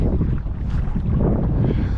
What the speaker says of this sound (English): It's kind of windy.